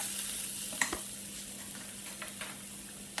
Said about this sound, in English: And then keep stirring and frying in the oil.